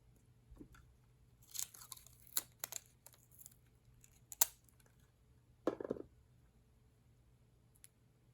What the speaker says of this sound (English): And then we tape it a bit here.